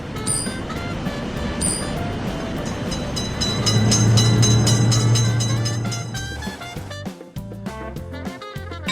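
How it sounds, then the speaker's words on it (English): Train wagons roll past a motor vehicle level crossing nearby, a steady loud rumble that builds to a droning peak before giving way to a series of sharp wheel clicks over the rail joints. "Train is in sight."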